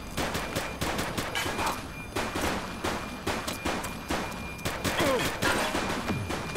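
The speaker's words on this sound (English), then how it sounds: "Light them up! Shots fired!" Rapid bursts of gunfire from a police shootout in The Precinct video game, repeated loud shots in quick volleys throughout with brief shouted voices mixed in.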